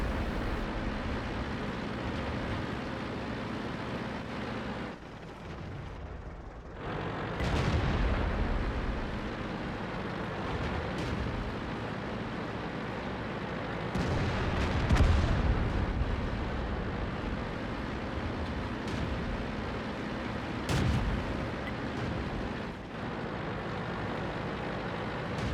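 Tank cannon shots in the online game World of Tanks boom out several times, heavy deep blasts at irregular intervals over a continuous dense rumbling battle ambience, with no talk.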